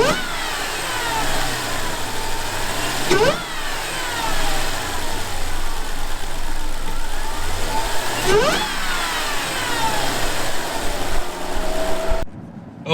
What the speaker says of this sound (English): first impressions with the JLT cold air installed. Wow, this thing has all of the whine.